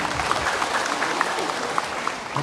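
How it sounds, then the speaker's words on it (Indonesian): Attendees at a PGRI Garut teachers' association event applaud their chairman with dense, continuous clapping from a crowd, fairly loud and even throughout the short stretch. "Tepuk tangan untuk Bapak Ketua PGRI"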